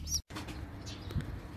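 Low, soft cooing of pigeons close by on a rooftop, with a brief gap of silence near the start and faint bird chirps above.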